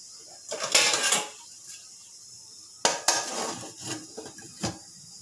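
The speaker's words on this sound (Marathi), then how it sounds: "यावर आपण झाकण ठेवून देऊयात।" Metal lid set down onto a pan of steaming coriander vadi balls, giving two clattering bursts of metal contact close by, with quieter knocks and scrapes between.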